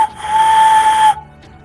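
A loud, sustained, steady finger whistle held for about a second as an imitation of a signal whistle, alone and close, ending abruptly into quiet.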